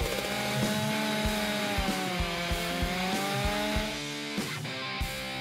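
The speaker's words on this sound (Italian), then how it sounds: "È l'ora della motosega!" A chainsaw runs indoors during a home playhouse-building project, its engine droning steadily at close range with a rhythmic series of sharp clacks and a brief dip in pitch near the end.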